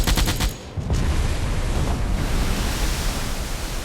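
Anti-aircraft gunfire from a submarine in the Silent Hunter 4 video game, a quick loud burst of rapid shots at the start, then a steady roar of sea and wind under a few faint distant reports.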